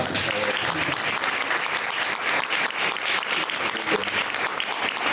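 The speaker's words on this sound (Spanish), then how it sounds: "así que también pido un aplauso para ella" Audience applause at a talk about the Middle East: steady, dense clapping from a sizable crowd fills the whole stretch, loud and continuous with no voices standing out.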